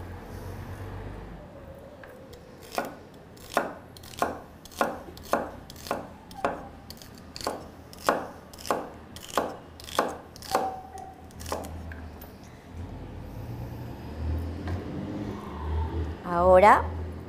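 A knife chops celery into small pieces on a cutting board, giving about fifteen steady, evenly spaced sharp knocks up close, while a person talks over parts of it.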